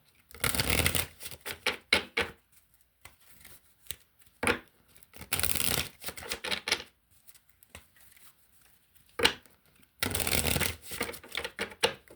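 A deck of cards being shuffled in several separate bursts of rapid riffling and flicking, close and crisp, with quiet pauses between each round.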